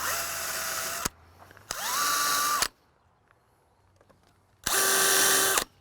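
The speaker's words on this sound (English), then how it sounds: "So I'm just gonna drill all my holes, center." A power drill bores holes in deck wood in three loud, close bursts, each whine climbing in pitch as the motor spins up, with quiet pauses between them.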